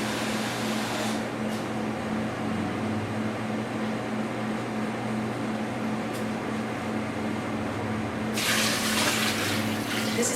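Tap water runs steadily into a large soup pot in a restaurant kitchen while beef noodle soup is being made, a continuous close hiss and splash that grows brighter and stronger near the end.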